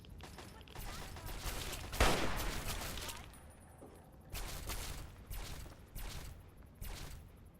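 Bursts of gunfire in the game Fallout 3: a loud central blast followed by repeated rapid volleys of shots, moderately close, with a mixed game soundtrack underneath.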